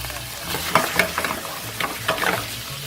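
Raw pork sizzles and fries in a pot for pozole, a steady crackle with occasional spoon stirs and scrapes, close and moderately loud, no voices.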